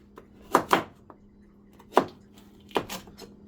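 Carrots being chopped finely on a board for Jamaican-style carrot porridge: a handful of sharp knife strikes in irregular pairs and singles, close and clear, with no talking.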